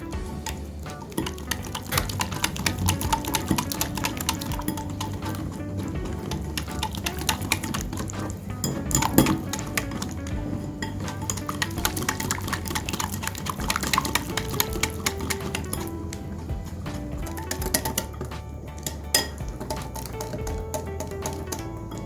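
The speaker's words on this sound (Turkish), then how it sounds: "İyice topakları gidinceye kadar karıştırın." Batter for a potato börek made with yufka is mixed in a bowl until smooth: rapid, dense clicking and tapping of a utensil against the bowl, continuous and close, with occasional louder knocks.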